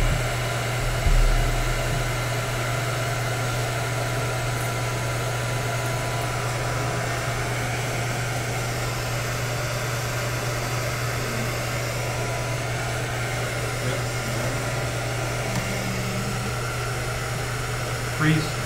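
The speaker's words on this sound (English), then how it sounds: "Use the hairdryer, warm it up a bit." A hair dryer blows steadily to warm a USB device on a helium-cooled Intel Core i9-13900KS overclocking bench, a loud, even whir with a low electrical hum that runs unbroken throughout.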